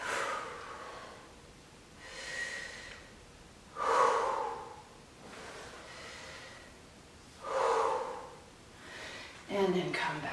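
Deep, audible breaths during a seated spinal twist in power yoga, slow inhales and exhales swelling and fading in a steady rhythm with a few sharper, louder exhalations, close and unaccompanied by talk.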